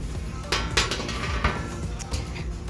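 A thrift store piece is flipped over on a hard surface, giving a few clinking, knocking impacts like dishware or metal being handled, close and moderately loud with no talking.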